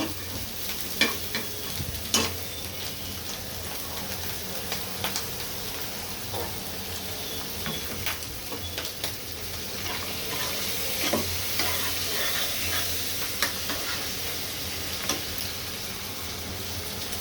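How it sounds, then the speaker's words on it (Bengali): Prawns coated in turmeric and salt frying in hot oil, a dense crackling sizzle with sharp pops and spatters, close and continuous with occasional louder bursts. "চিংড়ি মাছটা একদম লাল লাল করে ভেজে নিব।"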